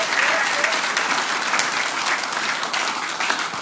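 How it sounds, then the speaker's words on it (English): Loud, sustained applause from a crowd, dense clapping that stays at an even level throughout. "they deserve a round of applause"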